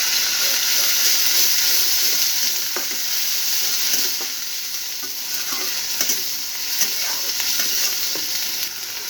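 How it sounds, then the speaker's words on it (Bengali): Cumin paste and onion paste fry in oil, a close, steady sizzle and hiss with occasional crackling pops and scraping stirs, with no one speaking. "জিরে বাটার পেঁয়াজ বাটার এটা একটু তেলের মধ্যে ভেজে নেব"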